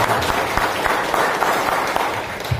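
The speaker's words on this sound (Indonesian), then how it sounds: "tepuk tangan buat panitianya" An audience at a seminar applauds the organizers, a steady, moderately loud ripple of clapping from a crowd with scattered sharper individual claps standing out.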